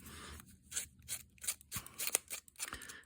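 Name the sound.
scissors roughing up the edges of paper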